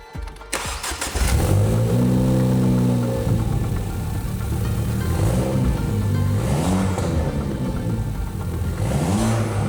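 A car engine fresh from an engine swap catches and idles, then gets several rising and falling throttle revs in close succession, loud and near with no talking.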